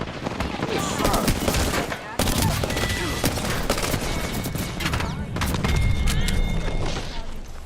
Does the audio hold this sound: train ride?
no